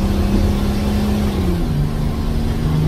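A Detroit Series 92 two-stroke diesel, supercharged and turbocharged, drones loudly inside a Pierce fire truck, a steady heavy engine hum with a pitch that dips slightly midway and holds, close and continuous with no talking.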